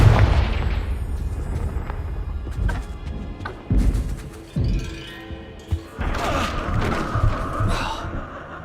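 In Hogwarts Legacy, the Confringo fire spell goes off amid a string of booming impacts and crashes, several heavy thuds spaced over a few seconds against game ambience.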